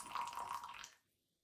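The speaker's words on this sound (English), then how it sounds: "So we've added 120 grams of boiling water" Boiling water pours into a bowl for homemade sugar-free condensed milk, a short, close liquid splash and gurgle lasting under a second before fading to silence.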